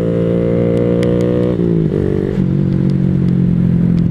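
A Vader 125cc motorcycle accelerates close up, its buzzing engine note holding steady and loud for several seconds, dipping briefly as it shifts, then climbing again beneath rushing wind.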